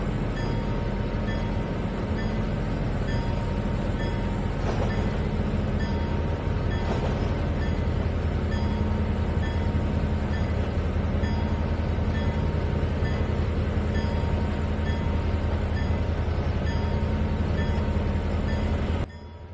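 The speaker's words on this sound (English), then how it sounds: "reversed the train so he's moving forward right now" Model train rolling steadily around a layout, a continuous close rumble and hum of wheels and motor with faint rail clatter throughout, no talk.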